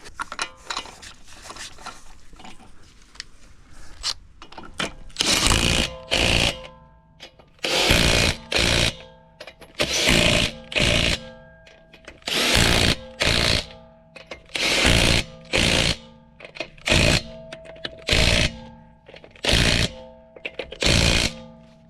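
Makita cordless impact wrench hammering lug nuts on a Toyota Matrix XRS wheel, about a dozen loud rattling bursts of roughly a second each in a steady on-off rhythm after a few quiet seconds.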